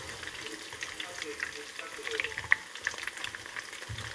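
Vegetable fritters with carrot sizzle and crackle softly in frying oil, with gentle steady bubbling and occasional pops up close.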